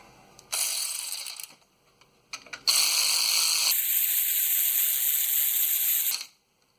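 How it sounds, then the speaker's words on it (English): An electric ratchet whirs in short bursts, then in a longer sustained run with a pitch shift partway through, while driving bolts on a 2005 Dodge Dakota front differential. It is close and clear, with no talking. "I'm going to go ahead and get my electric ratchet on that."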